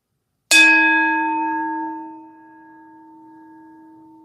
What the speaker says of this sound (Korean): 종소리의 잔향이 사라지고 난 자리에 드러난 고요